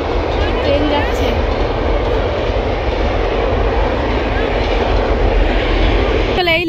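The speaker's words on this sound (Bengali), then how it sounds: "একদম রেল লাইনের পাশেই ট্রেন যাচ্ছে" A train rolls past on a railway line right beside the track, a loud, steady, continuous rumble and rush that fills the whole stretch without letup.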